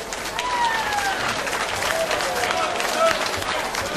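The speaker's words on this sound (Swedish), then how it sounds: "Ska vi inte ge Anders Engberg en lite större applåd för saxen här?" An audience at a 1989 live show applauds a saxophone player, a steady wash of clapping from a crowd with cheering voices mixed in, fairly distant and even throughout.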